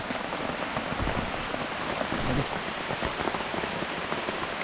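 Steady rain hisses and patters on foliage and a tent at a bushcraft camp deep in a forest, a dense even wash of drops with a brief spoken word over it.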